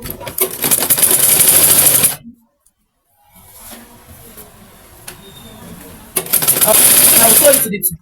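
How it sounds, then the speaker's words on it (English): A sewing machine stitches African wax print fabric in two loud, rapid mechanical bursts at the start and end, with a quieter stretch of faint handling noise between them. "then I'm sewing"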